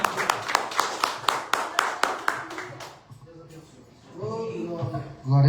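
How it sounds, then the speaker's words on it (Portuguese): A church congregation claps in a fast, regular rhythm for about three seconds, loud and together, before the clapping fades and a voice continues speaking. "Você pode aplaudir o nome do Senhor?"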